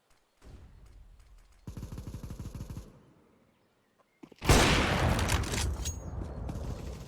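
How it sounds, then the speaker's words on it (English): A flashbang grenade thrown during a video game round: mechanical clicks and handling come first, then a sudden loud bang opens into a sustained, noisy roar. No one speaks. "I am throwing a flashbang."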